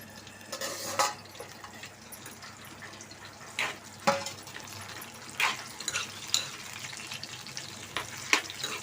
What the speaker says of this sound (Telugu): ఇప్పుడు పచ్చిమిర్చి వేసుకుందాము. అవి పేలుతాయి, జాగ్రత్తగా వేపుకోండి.